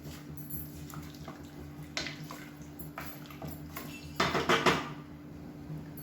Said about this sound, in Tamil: இதை நல்லா கலந்து விட்டுட்டு மூடி வச்சுக்கலாம்.